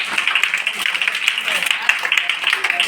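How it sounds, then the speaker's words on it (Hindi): An audience at a school Women's Day event applauding for Fatima Sheikh, with sustained, dense hand clapping filling the room while voices carry over it. "एक बार फातिमा शेख के लिए जोरदार ताली बजाएं आप लोग"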